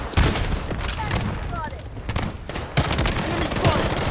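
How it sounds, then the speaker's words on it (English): Rapid bursts of gunfire from a defensive turret in a shooter video game, loud and close in repeated volleys, with a voice talking over the shots. "Defensive turret activated."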